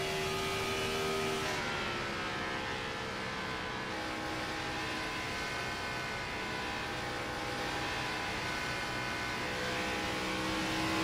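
A race car engine in a racing game around Miami, held at high RPM near 9,000 with a steady, loud, sustained whine and a slight pitch shift, no talking.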